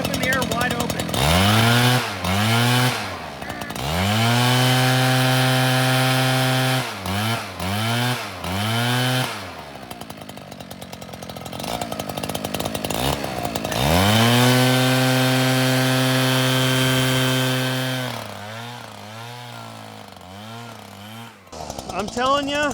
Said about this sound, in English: I'm telling you, that is a crisp two-stroke engine.